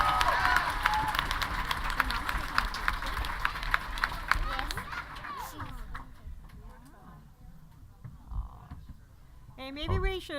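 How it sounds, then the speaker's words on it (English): Fans in the crowd at a convention voice-actor panel clap and cheer in a burst of sharp claps that fades after a few seconds, followed by people talking nearby. "Applause, please, for the Sonic rain boom."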